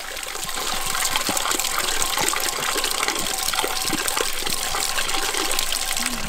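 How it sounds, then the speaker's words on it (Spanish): Water gushes and splashes steadily at the Buenaventura fountain on the Gollizno trail in Moclín, Granada, a continuous close rush of flowing water with no voices. "estamos en la fuente de la Buenaventura"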